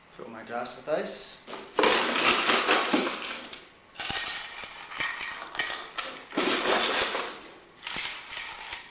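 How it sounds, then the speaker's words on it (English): Ice cubes clattering and clinking into a cocktail glass in a home bar setting, several loud clustered bursts of rattling impacts with short pauses between them. "Fill my glass with ice."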